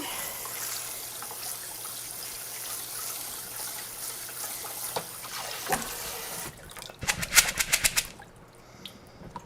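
Beans being rinsed under a running kitchen tap: a steady rush of water for several seconds, then the stream cuts off and a short run of clattering, splashing taps from the sink follows, close by and with no talking.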